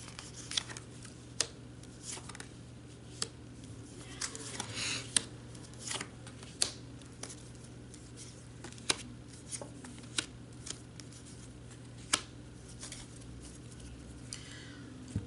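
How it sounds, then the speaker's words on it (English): Tarot cards are shuffled by hand, giving a run of soft riffling and sharp snapping clicks spaced irregularly over a quiet room hum, with no voices. "So I have shuffled the cards focusing on the energies for the next 3 months for you."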